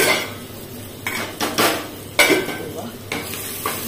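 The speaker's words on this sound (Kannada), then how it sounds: "ಇದರಿಂದ ಈಗ ಸ್ವಲ್ಪ ಒಗ್ಗರಣೆಯನ್ನು ತೆಗೆದು ನಾವು ಸಾರಿಗೆ ಹಾಕಿಕೊಳ್ಳುವ." Tempering being added to rasam in a kitchen: clanking pan and utensil clatters with spoon stirring, several bright bursts and a light sizzle, close and fairly loud, no talk.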